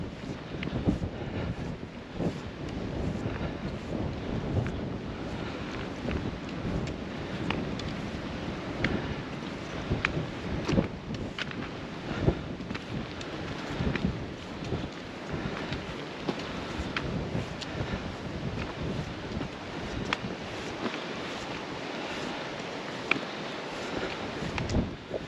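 Steady breezy wind gusting outdoors along a walking route, a continuous rushing roar buffeting the microphone throughout with no one talking.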